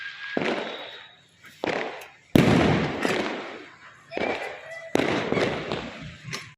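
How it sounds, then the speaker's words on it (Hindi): Diwali night fireworks and firecrackers burst repeatedly all around in Sadhaura, India, loud sharp explosions with crackling tails, several blasts in irregular succession nearby. "धूम धड़ाकों की आवाज़, आतिशबाजी की आवाज़ जो है वो चारों ओर से"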